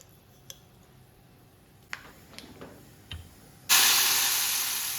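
Fried tempering poured into a chickpea curry, a few small taps and clicks before a sudden loud burst of sizzling hiss that slowly fades, close by.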